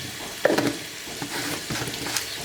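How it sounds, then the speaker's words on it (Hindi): Spices and chillies for sarson ka saag frying over raised heat in a pan: a soft, steady sizzle with a few light stirring scrapes and clicks, close and fairly quiet, no talk. "को मसालों को भून लेना है।"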